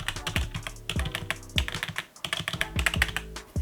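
Fast typing on an Npet K10 budget keyboard, with dense, clacky, plasticky keystrokes in quick, uneven bursts, heard close up and alone.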